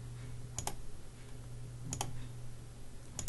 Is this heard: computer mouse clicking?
yes